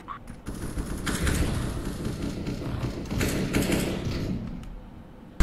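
AK rifle gunfire in the video game CS:GO, a rapid, sustained stream of shots with dense mechanical clatter, loud and continuous, ending with a sharp burst.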